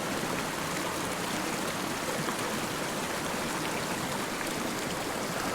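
A small mountain creek flows with a steady, close, broadband rush of water, unbroken and without voices.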